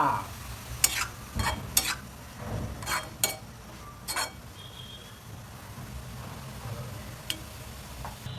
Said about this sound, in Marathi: गाजर असं उगं परतून घ्यायचं